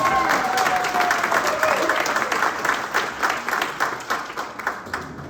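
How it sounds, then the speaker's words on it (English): A round of applause from an audience at a public meeting with candidates for office, dense clapping that holds steady, then thins and tapers toward the end, with a faint whistle early on. "Come on, let's give them a round of applause, right?"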